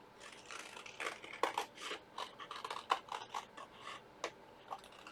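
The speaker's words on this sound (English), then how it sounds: "Get my scissors and then cut these out." Scissors cut out paper shapes close up in a series of quiet, irregular snips and crisp clicks, with short pauses between the cuts.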